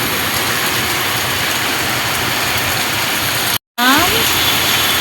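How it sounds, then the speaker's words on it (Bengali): Heavy rain falls steadily as a dense, loud hiss throughout, broken by a brief silent gap near the end before the downpour resumes. "কি বৃষ্টি, কত বৃষ্টি হচ্ছে"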